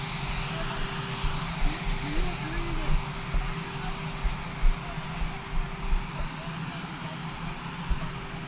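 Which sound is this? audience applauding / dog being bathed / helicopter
helicopter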